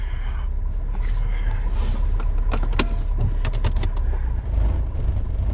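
The engine of an Austin Ambassador Vanden Plas idles steadily after an oil and ignition service, a close, even rumble with scattered light clicks and rattles from inside the car.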